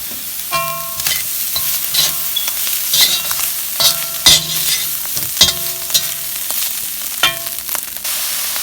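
Turkey fried rice stir-frying in hot oil with balsamic vinegar and soy sauce, a steady close sizzle broken by repeated sharp scrapes and clacks of a spatula tossing the rice in the pan.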